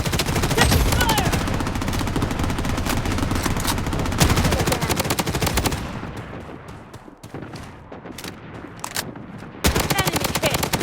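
Gunfire in the Blood Strike shooter game, sustained rapid automatic bursts that are loud and dense, easing off briefly with scattered single shots before a fresh heavy burst at the end; game voice callouts are heard.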